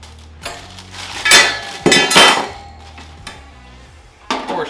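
Metal latches on a Monument Grills G22 gas grill being unlocked, giving several sharp metallic clanks and clinks in a few separate bursts, close and fairly loud.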